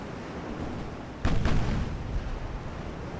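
Naval guns fire in the warship strategy game Ultimate Admiral: Dreadnoughts, a sudden loud boom followed by a second quick blast and a rumbling tail over constant battle noise.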